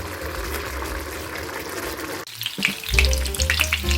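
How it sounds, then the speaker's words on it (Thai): Mushroom and crab-fat sauce simmering in a pot, with a steady bubbling and frying hiss that briefly dips, then returns livelier with crackling pops and clinks, close and fairly loud, no speech. "ตอนนี้ก็เริ่มเดือดแล้ว"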